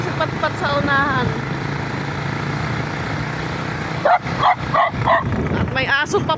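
A dog barks in a quick burst of several sharp yips outdoors near a motorcycle journey toward a ship port, set against steady road and wind rumble, with people talking nearby.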